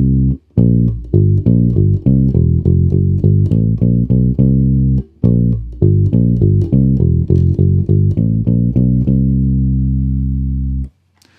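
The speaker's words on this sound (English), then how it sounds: "So with the tone control rolled all the way back, the bass now sounds like this." Bass guitar with its tone control rolled fully off, playing a dark, muffled, rounded line of plucked notes in steady phrases, loud and close, ending on a long sustained note.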